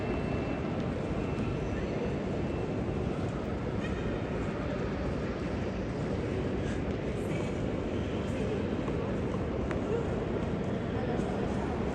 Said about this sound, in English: here's the beautiful train station